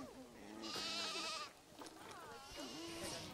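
Sheep bleating in the Planet Zoo video game, a few drawn-out wavering calls in succession, loud and close, with the second half rougher and overlapping another bleat.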